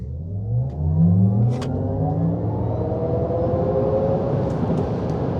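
An electric 2025 Cadillac Vistiq or Rivian R1S SUV launches from a standstill on an empty country road, a rising whine and road rumble that climbs steadily in pitch as it accelerates hard, loud and close, no voices.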